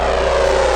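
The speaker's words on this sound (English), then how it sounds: "Like a plane flyby." A plane flyby sound effect from the Soundpaint instrument, a one note downer, heard as a loud sustained engine-like drone, steady and unbroken over a short moment with no voices.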